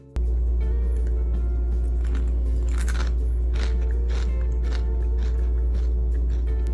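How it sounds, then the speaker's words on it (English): Crisp crunching bites of deep-fried shallots close to the mic, a few bursts of crackly chewing over a constant low hum, no speech. "You can probably hear how crunchy this one is"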